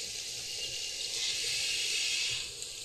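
Running water from a tap in the Call of Cthulhu horror game: a steady, soft hiss of flowing water, continuous and even throughout, with no talking.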